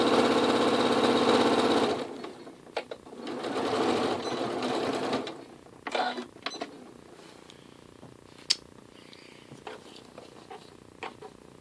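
Domestic sewing machine stitching a hem on a doll-sized skirt: a loud steady whir for about two seconds, then a second longer run, followed by faint clicks and handling noises.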